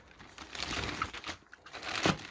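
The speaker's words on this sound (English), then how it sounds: "Okay, so I just cut open the bag" A plastic bag holding a replacement hose for a Bissell Spot Clean Pro is handled, giving close, irregular crinkling and rustling with a few sharper crackles, no voices.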